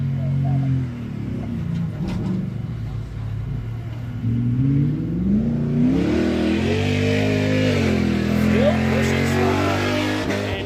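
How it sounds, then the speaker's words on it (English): A Ford F250 race truck's engine revs hard and repeatedly bounces off the rev limiter at an off-road race in Columbus, Montana, the rising and falling engine drone loud and steady throughout under a commentator's voice. "Giving it all he's got, bouncing the limiter, having fun."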